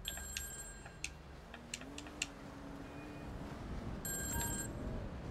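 An old-fashioned payphone bell in GTA Online rings in short repeated bursts over a low hum of game ambience, with a few clicks and faint tones scattered throughout.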